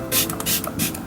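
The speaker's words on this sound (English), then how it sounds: "I'm going to finish off with some setting spray" Several quick bursts of MAC Fix Plus setting spray hissing close by, short sharp pumps in a rapid sequence with brief gaps between them.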